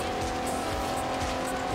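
A Jeep races along a dusty dirt trail in Australia's Outback in Forza Horizon 3 at about 150 km/h, its engine droning steadily with a continuous high tire and gravel rush, loud and close throughout.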